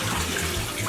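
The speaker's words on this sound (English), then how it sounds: "We're just gonna dump the water that we" Rinse water left from washing artichokes for stuffing is poured out into a sink in a steady, continuous splashing rush, close and fairly loud, with no talk over it.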